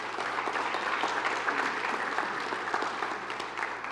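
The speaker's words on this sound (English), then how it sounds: "please, a round of applause for our generous sponsors and partners" Applause from a Chamber of Commerce breakfast audience for event sponsors, a steady wash of clapping at moderate distance, even throughout with a low hum underneath.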